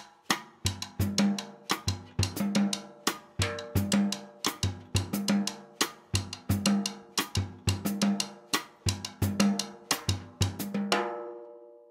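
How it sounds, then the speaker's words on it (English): A drum groove with the hi-hat moved to beats 2 and 4 loops evenly as clean, close strikes over low drum thuds, played alone with no talking and finishing on a sustained ringing hit. "And now I'm going to move the hi-hat to 2 and 4"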